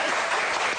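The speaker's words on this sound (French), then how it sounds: "Non mais n'applaudis pas." A brief burst of applause on a French TV magazine show, a dense clatter of clapping lasting under a second, loud and even.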